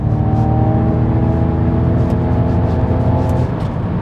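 A Ford Mustang electric car pulls hard out of a corner, with a steady loud motor whir and road roar held close and continuous throughout, no tyre squeal and no voices.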